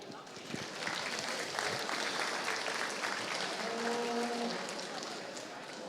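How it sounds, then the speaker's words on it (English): Audience applause at a dairy cattle show ringside, a broad wash of clapping at moderate distance with crowd murmur and a brief tonal sound near the end. "I will ask that everyone just give these young cows a round of applause."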